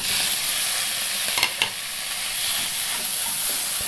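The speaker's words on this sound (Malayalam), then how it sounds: "തീ അല്പം കൊടുത്തൊന്ന് വഴറ്റിയെടുക്കണം" Chopped tomatoes sizzle and hiss steadily in a hot pan, with a couple of soft stirring scrapes partway through.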